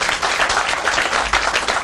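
Applause at a library groundbreaking, honoring the library board: dense, steady crowd clapping that stays loud and even throughout, with no voices over it.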